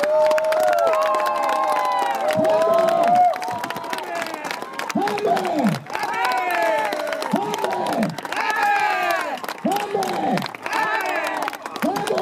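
A crowd at a Finnish public event cheers and shouts loudly for the winning Häme team, with excited children's voices and clapping, sustained and near throughout.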